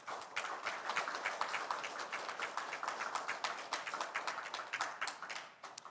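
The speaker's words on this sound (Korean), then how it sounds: "우리 박기영 교수님 박수 한번 부탁드립니다." An audience at a Yeosu carbon-neutrality strategy forum applauds a Sunchon National University professor, with dense, fairly quiet clapping that holds steady before fading out at the end.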